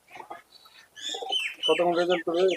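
Pigeons coo and warble in short bursts close by at a pigeon sale in Murshidabad, with a few brief chirps early on.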